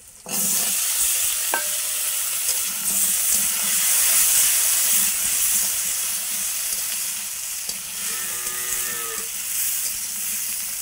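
Potatoes frying in a pan give off a continuous loud sizzle close by, with a brief clatter of stirring and a short cow moo somewhere in the background near the end.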